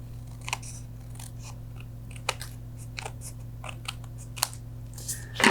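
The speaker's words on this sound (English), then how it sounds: "I am folding the edge over to guide my snips down this edge of the card" Scissors snip along the folded edge of a card in light, sparse cuts, a handful of quiet crisp clicks spread over several seconds above a steady low hum.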